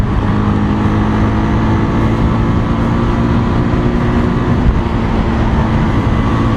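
Bajaj Avenger 220 cruiser motorcycle leaning through a turn, its engine a steady, loud, continuous drone with a low rumble and no break or speech.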